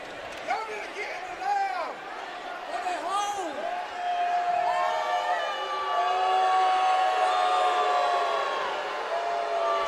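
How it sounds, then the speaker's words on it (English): Home crowd at a Savannah State college basketball game, a steady wash of cheering and noise that builds and holds loud, with a commentator talking over it. "Savannah State's crowd making some noise"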